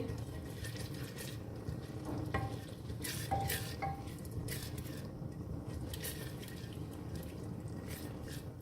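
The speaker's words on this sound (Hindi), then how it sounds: "इन्हें 1 से 2 मिनट मैं भूनूंगी मीडियम आंच पे" Coarsely chopped almonds roasting in a pan over medium heat, giving a steady soft sizzle with light scraping and stirring taps, close and continuous with no talk.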